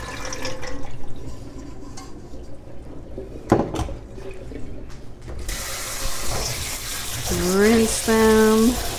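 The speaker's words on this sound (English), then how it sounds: "And put them in the strainer." Tap water runs over dried green peas in a strainer, a steady splashing rush at close range, with someone talking over it.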